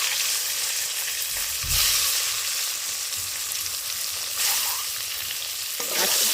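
An egg frying in hot oil with turmeric and salt gives a steady, loud sizzle that swells slightly a few times as it is stirred, with no voices.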